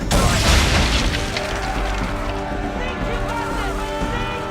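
Ship cannons fire at powder barrels in Assassin's Creed III, opening with a heavy boom that rumbles on under voices and a swelling game soundtrack.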